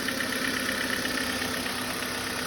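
A Kia Forte engine due for a rebuild idles steadily and quietly with a constant hum and a faint fast ticking underneath, heard close with no talk.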